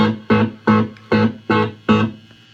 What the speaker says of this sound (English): There's reverb.